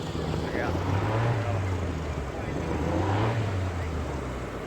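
A rally car on a stage at Antsumäe in 2016, its engine note swelling and fading twice as it passes at moderate distance, with wind and voices of spectators in the background.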